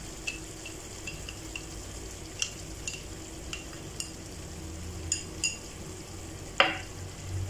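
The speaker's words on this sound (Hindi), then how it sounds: "अब मैं इसमें दही ऐड कर दूंगी और फिर इसको हल्का सा दही के साथ भून लूंगी।" Spice masala with yogurt (curd) frying in a pan for chicken kofta curry, a low steady sizzle under repeated scraping stirs and light clinks of a utensil against the pan, close and fairly quiet.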